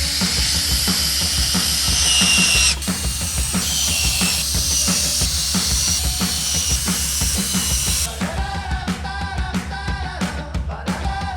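A loud, close power drill whirs steadily, its pitch changing as it drives screws into a wooden notice board, with short bursts and pauses near the end.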